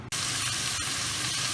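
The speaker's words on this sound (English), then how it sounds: "These mushrooms and the shallot are now coarsely chopped and frying in the pan" Coarsely chopped mushrooms and shallot sizzle in a hot pan, a loud, continuous close-up hiss that starts abruptly and holds steady throughout.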